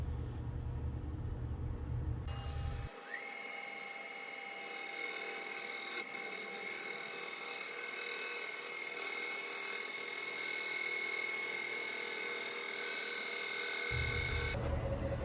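A sharp gouge cuts a bowl with a red epoxy repair on a wood lathe, making a steady, close, hissing scrape that runs without a break. A louder low hum plays at the start and at the end.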